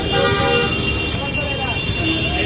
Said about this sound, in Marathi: ट्रॅफिक बघा, ट्रॅफिक किती आहे